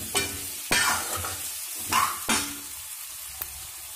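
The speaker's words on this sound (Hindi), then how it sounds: "हल्दी को बिल्कुल अच्छे से मिक्स करना है" Turmeric being stirred into pumpkin sabzi sizzling in a pan, with a few scraping strokes over a soft, steady frying hiss, close and alone.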